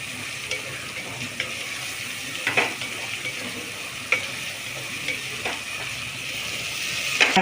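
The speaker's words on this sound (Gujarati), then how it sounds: "હવે આપણે બટાકા નાખીશું. બટાકાને થોડી વાર શેકાવા દઈશું." Potatoes fry in a pan for vaghareli khichdi, a steady sizzle punctuated by several sharp spoon clinks and scraping stirs at irregular intervals, with no talk.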